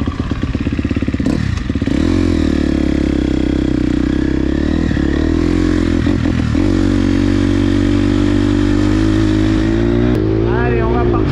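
A motocross bike fitted with a sound box on its plate pulls away, engine loud and close with revving climbs, gear changes and a few clattering thumps, then settling into a sustained drone.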